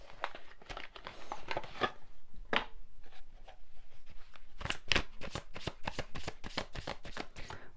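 Tarot cards shuffled close up in a continuous crisp riffle, broken by sharper snaps and flicks of the deck.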